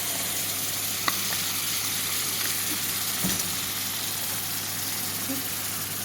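Roe hitting a hot frying pan gives a steady, moderate sizzle that hisses on without pause, broken by a faint clink near the start and a soft knock partway through.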